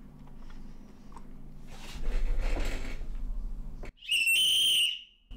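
After a few seconds of rustling and handling noise, a single shrill, loud whistle blast rings out for about a second and then stops abruptly.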